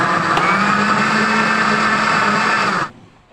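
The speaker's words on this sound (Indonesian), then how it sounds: "Blender sampai semuanya." A kitchen blender runs steadily at full speed, chopping pineapple pieces in water, a loud continuous whir that holds for nearly three seconds before cutting off abruptly.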